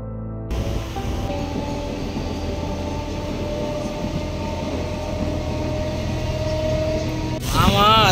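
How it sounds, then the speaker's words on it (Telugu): A passenger train runs with a steady rumble of wheels on rails and a sustained tonal hum, ending in a brief rising squeal or whine, without clear talk. "ఈ ట్రైన్ ఎక్కి ఇప్పుడు మనం 5th స్టాప్లో దిగాలి"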